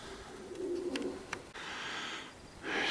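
Pigeons coo softly in a low, throaty rolling call as a pigeon keeper's flock lands, with a brief burst of warbling followed by steady wind-like hiss.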